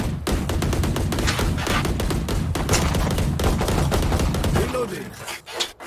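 Dense, rapid gunfire from Valorant rattles almost nonstop for several seconds, loud and close, then thins into a few scattered shots at the end.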